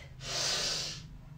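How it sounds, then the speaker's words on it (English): A child takes one deep, audible breath during a kids' yoga session, a soft airy inhale swelling and fading over about a second, close and alone. "Take a deep breath."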